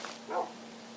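Minecraft dogs give a faint, short bark and whimper at a distance, followed by a brief sharp sound at the end, with no talking.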